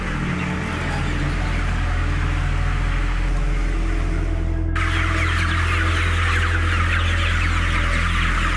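Many chickens cluck in a constant dense chatter inside a factory farm shed, heard over a loud steady hum of ventilation machinery that grows brighter partway through.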